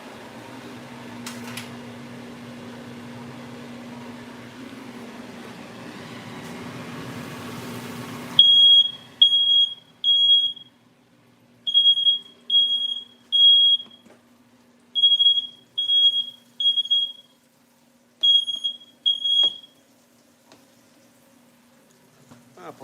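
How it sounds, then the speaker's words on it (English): A household smoke alarm set off by cooking smoke sounds a series of loud, high-pitched beep bursts in irregular groups after a stretch of quieter kitchen background noise, then stops. "I apologize for my alarm going off. There's smoke in here from cooking."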